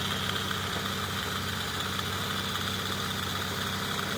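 Small engine of an ATV or scooter idling steadily, a continuous even mechanical rumble with slight vibration, moderately loud and close, with no talking.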